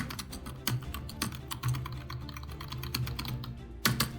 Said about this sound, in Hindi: एक कीबोर्ड मिल जाता है बढ़िया सा। जो कीबोर्ड बहुत ज़्यादा क्लिकी एक्सपीरियंस नहीं रहने वाला।